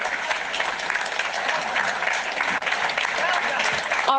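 A crowd at a political rally applauds continuously, a dense, even wash of clapping that continues for several seconds with a brief dip partway through.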